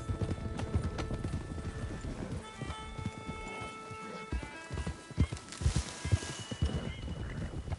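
Rhythmic hoofbeats of horses galloping in Red Dead Redemption 2, with a whinny and overlapping clip-clop across the stretch, fairly full and continuous against a background hum.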